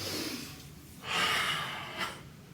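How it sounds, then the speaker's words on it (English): Slow, controlled deep breaths during karate kata Enpi: one long, airy exhale close to the mic, followed by a shorter breath, over a soft background. "these are nice and slow, controlled, deep breaths"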